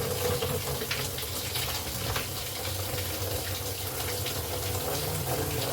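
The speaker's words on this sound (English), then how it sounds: "Now I can hear water." Water pours steadily into a pond with a continuous broadband rush and splash, loud and close, with no voices.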